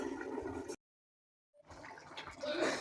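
Water is poured into a half-cooked potato and pointed gourd curry, giving a brief gurgling splash and bubbling on either side of a short silent gap, close and moderately quiet.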